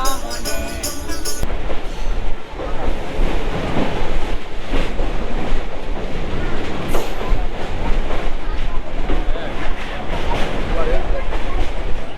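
A passenger train rides from Nandakumar to Digha with a loud, continuous rumble and rattle heard from inside the carriage, and voices talk over it throughout.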